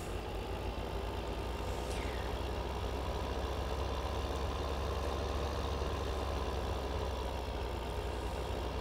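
A tractor engine idles in a farming video game on the Norgeholm map, a steady, unbroken low rumble with a faint mechanical hum above it.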